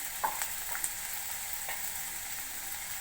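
Salted bitter gourd peels fry in hot ghee with a steady, close sizzle. A few faint clicks of stirring come through the sizzle, with no voices.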